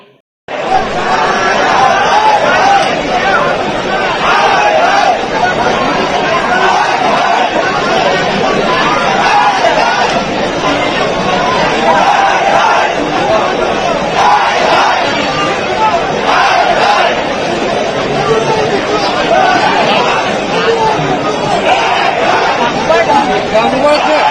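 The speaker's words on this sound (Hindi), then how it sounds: "शनिवार रात तक प्रदर्शनकारियों की भारी भीड़ जमा हो गई" Large crowd of protesters against the BJP gathered on a Saturday night in Gujarat, a dense, loud, continuous hubbub of many voices with shouting that holds steady throughout.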